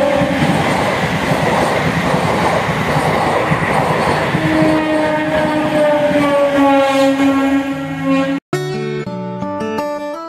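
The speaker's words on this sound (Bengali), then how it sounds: "অপেক্ষা করব কখন ট্রেন আসে, তখন উঠবে, আবার রওনা দিতে হবে সোজা" A train rumbles loudly past a closed railway level crossing on the road to Mukutmanipur in Bankura, a heavy close roar that gives way to ringing, horn-like tones as it passes.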